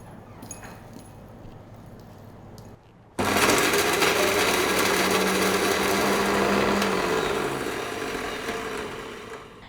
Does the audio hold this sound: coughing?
no